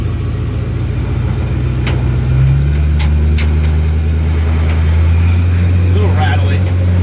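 A Ford Mustang engine runs with a slightly rattly note, a steady low idle that rises as it revs, close and loud throughout.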